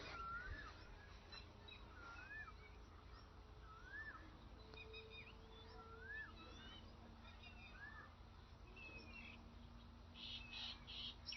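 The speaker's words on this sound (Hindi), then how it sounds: "टिटेरी की आवाज है।" Repeated sharp, rising calls of a red-wattled lapwing ring out at intervals over a steady low hum, moderately distant, alongside other faint chirps, in the Pakistani Punjab countryside.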